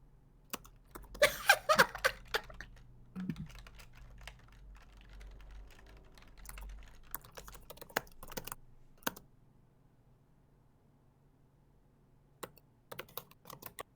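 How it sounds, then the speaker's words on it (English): Intense typing on a computer keyboard, rapid clattering bursts of keystrokes near the mic with pauses between flurries and a few isolated taps, no talking. "Some intense typing."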